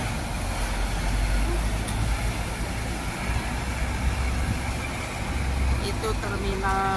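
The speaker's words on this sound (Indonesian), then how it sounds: "Itu terminal bis, area terminal bis." Traffic rumbles through a busy Hong Kong bus terminal, with buses and cars idling and passing in a steady low roar, close and continuous, while a few brief tonal beeps sound near the end.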